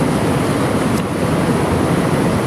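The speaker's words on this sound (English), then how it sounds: "You like this mighty river, don't you?" Mountain river flowing near Tahoe, a loud, continuous close-up rush of water with a broad, steady roar and no voices.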